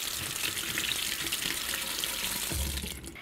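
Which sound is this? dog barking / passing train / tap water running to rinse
tap water running to rinse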